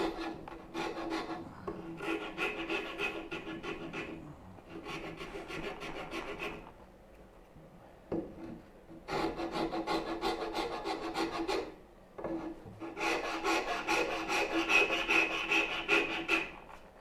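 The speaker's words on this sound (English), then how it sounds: "We'll just use a rasp." A wood rasp files a part of a turning bow saw in repeated bursts of gritty, scraping strokes, each lasting a second or two with short pauses between, close and clear with no talking.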